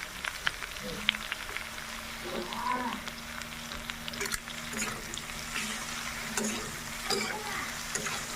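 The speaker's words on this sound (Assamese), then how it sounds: "এতিয়া আলুৰ লগত একেলগে ভাজি ল'ম।" Soybean and potato sizzle steadily in a hot pan, with occasional scraping and stirring clicks and a low hum underneath.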